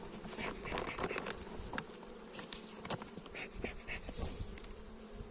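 Dense swarm of honey bees buzzes continuously at the hive, close and busy, with wingbeats and small knocks mixed in and no talking.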